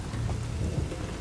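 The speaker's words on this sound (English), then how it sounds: "Very nice and stormy. I actually quite like the rain though." Steady rain with low rumbling thunder in a stormy scene from the video game The Witcher 3: Wild Hunt, a continuous wash of falling water over a deep rolling growl, with no voices.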